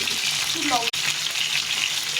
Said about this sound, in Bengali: আর এখন পোস্তটা আর এই কাঁচা লঙ্কাগুলো ভেজে নেব